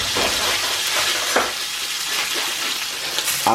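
Rump steak sauce and food sizzle and fry in a hot pan, a steady close crackle running throughout with a few brief clatters of stirring.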